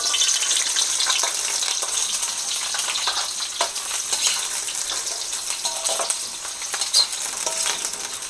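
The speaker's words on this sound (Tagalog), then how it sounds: "Igisa muna natin tong" Chopped onion sizzles in hot oil in a pan as it is sautéed to top pork chops, with a steady frying hiss and occasional stirring scrapes throughout.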